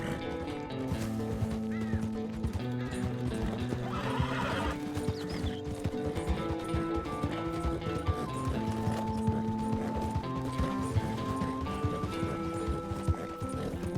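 A horse gallops with steady, rapid clip-clop hoofbeats and an occasional whinny in Red Dead Redemption 2, under continuous game music, with no speech.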